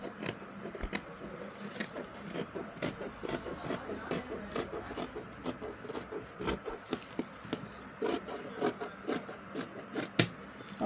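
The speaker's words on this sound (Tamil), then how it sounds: "இப்போ கட் பண்ணுவோம்." Scissors slicing through fabric for a princess-cut saree blouse, giving a close run of dry rasping snips and rubbing strokes in an uneven rhythm, with no talk.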